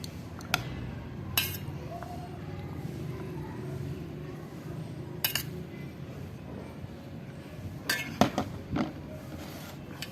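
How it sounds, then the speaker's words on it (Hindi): Chana chaat being spooned onto a plate, scattered metallic clinks and scrapes of utensils against dishware, a few sharp strikes standing out over low background hum. "अब हम इसको प्लेट में निकाल लेंगे।"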